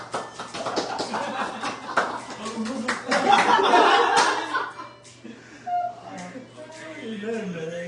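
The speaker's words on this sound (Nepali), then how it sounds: "उहाँलाई जोरदार तालीले स्वागत गरौँ" An audience at a friends' get-together claps to welcome a solo dancer, loud and close for about five seconds along with some chuckles, then the clapping fades and a voice starts talking.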